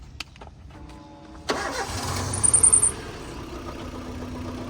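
A Maruti Gypsy 4x4 engine cranks over briefly, then catches and settles into a steady, loud idle close by, with no voices.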